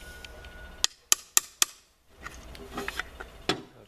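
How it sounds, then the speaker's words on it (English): Four sharp metallic taps in quick succession, close and clear, as a part of the accelerator pedal position sensor assembly on a Dodge Cummins is knocked back into place, followed by softer handling noises. "And tap it back in."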